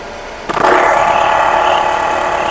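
Picked up through a mechanic's stethoscope, a failing alternator bearing on a running car engine cuts in abruptly after a brief quiet, then rings on as a loud, harsh, tonal whirring drone.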